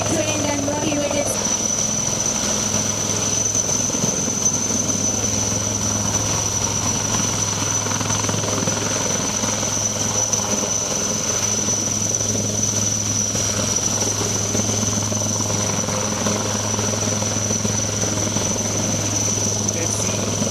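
An Indian Army advanced light helicopter runs continuously at Budgam Airport during an air-landed operations event, a loud steady rotor drone with a constant engine whine that stays close and unbroken throughout, while indistinct voices carry underneath.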